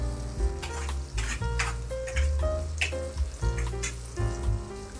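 Stuffed okra (bharli bhindi) sizzling and frying in a pan as the pieces are turned over and shaken, giving a steady crackle beneath prominent background music, with no talking.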